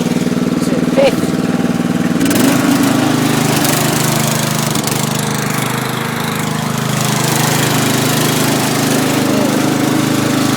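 Lawn mower engine running steadily while towing a trailer, driven in fifth gear, a loud continuous mid-pitched drone with a constant low rumble throughout, close to the listener.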